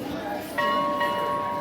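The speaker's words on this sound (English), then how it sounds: "the bells are tolling, and it's creating some effect out here" Temple bells tolling at a sacred site in Kannauj, with a clear metallic strike ringing out and a long sustained hum, set against a crowd's murmur.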